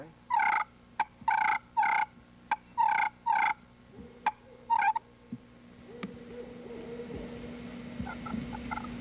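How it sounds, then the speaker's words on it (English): A slate turkey call gives a series of sharp, evenly spaced clucks, then trails into a softer rolling purr over a low background hum. "It makes a realistic cluck and purr"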